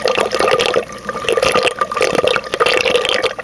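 Water splashing and trickling through the filter of a 150-gallon tank before modification, a loud, close, continuous gurgling rush with dripping, no speech.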